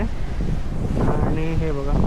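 Strong wind roars steadily over a stormy monsoon sea shore at Vengurla during cyclone waves, a dense continuous rush with surf churning beneath, while someone talks over it.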